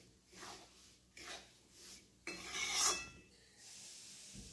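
Roasted semolina being stirred and turned in ghee for rava laddoos, giving soft scraping and rasping strokes of a spoon against the pan, with a louder rubbing burst partway through.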